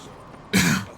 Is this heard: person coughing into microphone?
yes